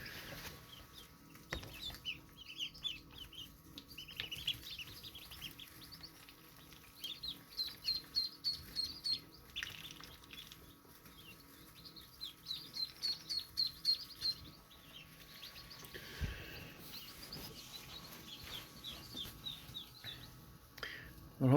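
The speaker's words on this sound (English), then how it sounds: "I hope you enjoyed this little look at the chicks and the ducks" Newly hatched chicks and ducklings in an incubator, peeping in rapid repeated bursts of high chirps, close and fairly quiet, coming in clusters with short pauses between them.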